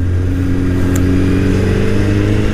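A Suzuki Hayabusa motorcycle fitted with an Akrapovic exhaust holds a loud, steady rev on a city ride, a smooth continuous drone throughout with no talk.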